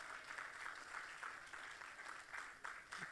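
A church congregation claps together in a soft, steady patter of applause that stays faint and even throughout.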